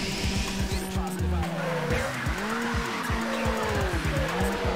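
A racing car in NFS Underground power-slides with long, wavering tire squeals over a revving engine, loud and close, while a voice talks underneath.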